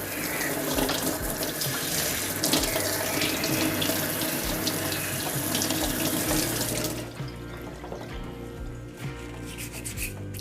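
Running tap water rinses a Breville Cafe Roma espresso machine portafilter, a steady splashing gush with rubbing and scrubbing against metal, then a slightly quieter flow near the end.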